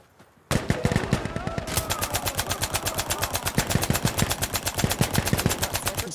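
Rapid automatic gunfire from a weapon in the WWII shooter game Hell Let Loose, starting after a half-second lull and continuing as a loud, steady stream of evenly spaced shots.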